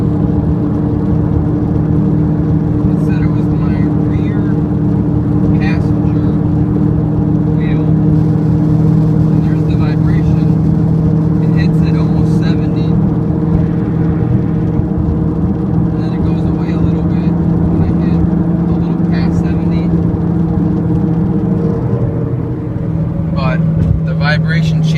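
A 2007 Subaru Impreza with a bad rear wheel bearing drones at a steady pitch while driving at speed, a loud continuous hum over road and engine noise inside the cabin.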